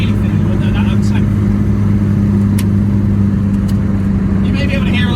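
Reliant Robin three-wheeler with fibreglass wheel arches driving at speed, a droning mid-pitched engine hum under cabin noise with scattered sharp knocks and clatters from rocks thrown up by the wheels.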